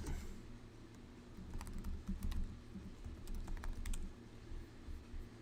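Rapid clicking of typing on a computer keyboard, with a short flurry of light keystrokes over a low steady room hum; no voices.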